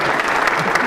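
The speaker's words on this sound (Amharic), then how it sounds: "ለቻይኖች ታጨብጭቡላቸው፣" Brief burst of audience applause at an Amharic standup comedy show in Addis Ababa, a dense wash of clapping from the crowd lasting about a second.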